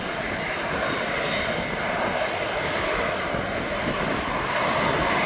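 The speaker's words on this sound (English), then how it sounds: "What a beautiful aircraft this is." A plane's aircraft engine drones steadily and loudly as it turns nearby at East Midlands Airport, a continuous even roar lasting the whole stretch.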